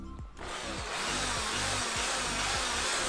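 A Japanese-market 100V electric drill with a 13 mm chuck, switched to plain drilling mode rather than hammer mode, whirs steadily and loudly close by after a brief quiet start, with no one talking.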